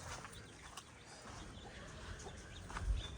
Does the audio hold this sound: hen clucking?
yes